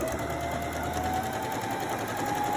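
A sewing machine runs a straight stitch on a fabric medical mask, a close, continuous rapid whirring with a steady motor tone, no voices.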